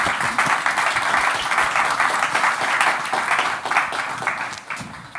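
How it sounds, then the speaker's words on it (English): An audience at an EU-Africa research and talent event applauds a panel, a dense, loud and steady round of many hands clapping that continues for several seconds before tapering slightly. "Let's give them one round of applause."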